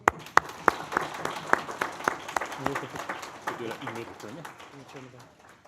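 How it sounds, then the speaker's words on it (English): An audience applauds an award recipient at a Seniors of Distinction ceremony, the clapping strong at first and then tapering off, with voices starting up as it fades. "Round of applause."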